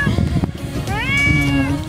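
A mother cat on a farm meows once with a rising, drawn-out call, heard close and fairly loud with background noise and some people's voices nearby.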